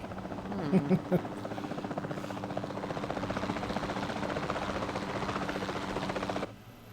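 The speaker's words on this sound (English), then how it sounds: "Then the sensible thing is to take a capture team helicopter." Steady rotor drone of a capture team helicopter in Jurassic World Evolution 2, a continuous buzzing thrum lasting several seconds before cutting off abruptly, with a few brief tonal game sounds early on.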